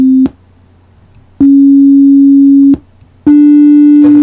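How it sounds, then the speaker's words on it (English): Three steady electronic tones from a browser-synthesized toy piano in Firefox 4 HTML5 audio, each held for over a second, separated by brief silences; thin and synthetic, more like beeps than piano notes. "Oh, we have a toy piano, which is as stupid as you think it would be."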